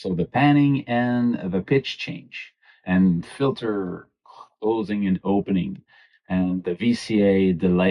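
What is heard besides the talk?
No everyday noise stands out behind the speech.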